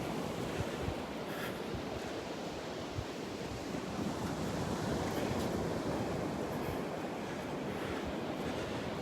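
Steady surf washes onto a Southwest Florida beach at low tide at Delnor-Wiggins, a continuous broad roar of breaking waves with some wind noise and no talking.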